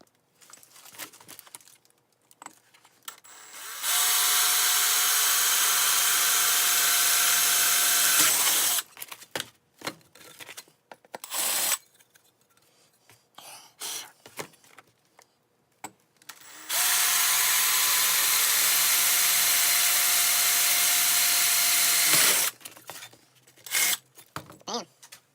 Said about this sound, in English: just gonna use a step drill bit, just gotta get that first layer and be done